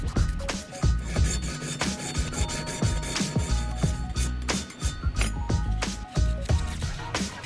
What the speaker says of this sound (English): I can use number 4 cut files and take it right to the limit of the guide